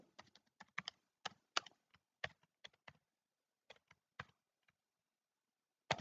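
Java code is typed on a computer keyboard in bursts of close, clear key clicks with short pauses between runs, set against near silence with no talking.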